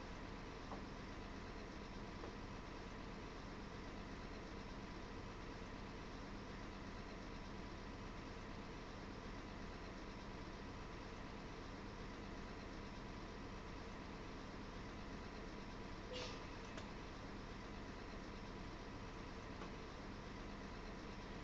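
Bus engine idling in the Euro Truck Simulator 2 KSRTC Superfast mod, a steady low drone that holds unchanged throughout, with no talk.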